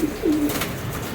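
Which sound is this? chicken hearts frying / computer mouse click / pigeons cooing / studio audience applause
pigeons cooing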